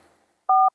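A single dual-tone phone keypad beep sounds briefly and loudly while a phone number is being dialed, preceded by faint background murmur and silence.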